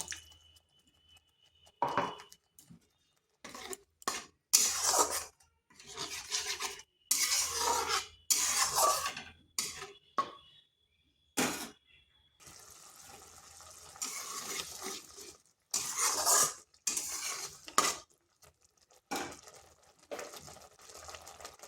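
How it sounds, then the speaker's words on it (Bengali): Spiced curry paste being fried and stirred in a pan, with a splash of water from rinsing the blender poured in; bursts of scraping, sizzling and liquid sounds come and go in irregular clusters, close and moderately loud, with no talking. "এটাকেও একটু কষে নিচ্ছি। এখানে দিচ্ছি একটু সেই মিক্সি ধোয়া জলটা।"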